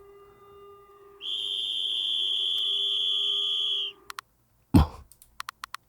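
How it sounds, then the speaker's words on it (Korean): In the video game Mindhack, a police emergency whistle sounds as one long, shrill, steady blast, followed by a few short clicks and taps. "긴급 사태를 알리는 호루라기 소리다."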